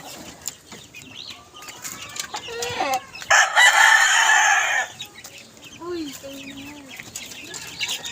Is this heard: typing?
no